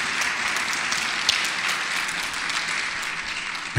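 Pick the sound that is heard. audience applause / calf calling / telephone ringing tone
audience applause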